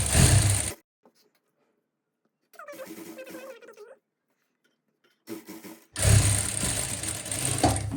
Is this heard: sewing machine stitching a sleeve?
yes